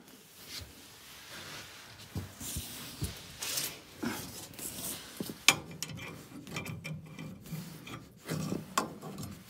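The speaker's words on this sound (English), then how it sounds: "I'm going to see if I can get this junior hacksaw in there and cut through that plastic ring." Junior hacksaw cutting through a plastic ring in a cramped space, rusted heating setup: irregular rasping strokes with scraping and small knocks, fairly close, no talking.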